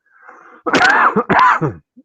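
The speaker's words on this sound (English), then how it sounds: "Excuse me for coughing." Two loud, harsh coughs in quick succession, close by, preceded by a faint low murmur and followed by silence.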